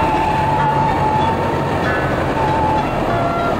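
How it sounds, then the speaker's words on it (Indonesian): Engine of a real BB301 diesel locomotive rumbling steadily with a faint high whine, a dense continuous mechanical roar recorded up close, no voices. "saya berpikir bahwa lebih baik saya merekam suara mesin lokomotif BB301 yang asli"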